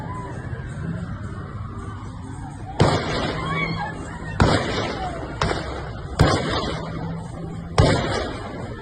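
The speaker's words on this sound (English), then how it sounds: "The video showing men shooting at Sydney's Bondi Beach has broken out." Gunshots ring out in footage of the Bondi Beach shooting in Sydney: five sharp, loud cracks spaced a second or two apart over a steady outdoor background.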